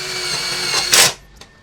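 An APR AP127+ cordless impact wrench runs with a loud high whine, rises to a brief harsh burst of hammering, then cuts off, followed by a small click. It is close and there is no talking.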